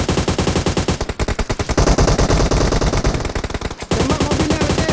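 Rapid bursts of automatic gunfire in the mobile battle royale game PUBG Mobile, loud and dense with repeated rattling volleys and a brief pause near the end.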